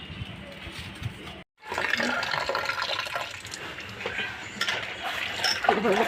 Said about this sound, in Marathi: तर आता आपण ह्या स्वच्छ धुवून घेऊया पाण्याने